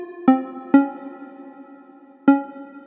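A synth pluck built in FL Studio 20 strikes three bright, bell-like notes, two close together and one after a pause, each with a sharp attack and short ringing decay.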